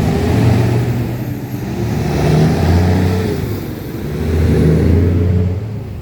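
Big delivery truck driving along Main Street, a loud, steady engine drone with rising and falling swells as it moves, close by and alone without talking.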